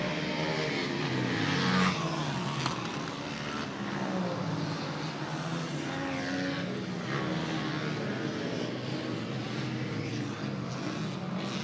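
Motocross bikes, a mix of 2-stroke and 4-stroke machines, race around a dirt track, their engines droning loudly and continuously with rising and falling revs as riders pass.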